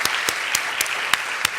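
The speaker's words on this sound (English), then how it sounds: "So please give a big hand of applause for them." An audience claps for class assistants at the close of a session, a sparse, moderate patter of clapping marked by about six sharp, distinct claps close by.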